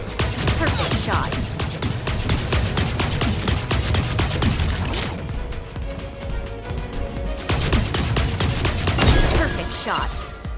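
Rapid mech gunfire in the battle royale video game Super Mecha Champions, a dense stream of loud shots with a brief lull midway before firing resumes, mixed with game effects and a spoken voice.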